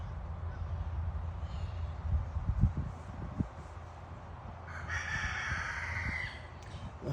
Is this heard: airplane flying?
no